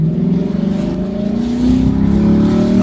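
A 2024 Lexus LC 500 Convertible's engine pulls hard under acceleration, a steady rising drone growing slightly louder over a few seconds, heard from inside the car with no talking.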